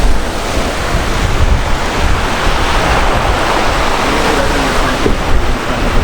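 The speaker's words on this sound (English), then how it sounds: "the waves, at least to me, are really loud" Loud ocean waves crash and wash onto a beach, a dense, continuous roar with wind buffeting the microphone, steady throughout with slight swells and no speech.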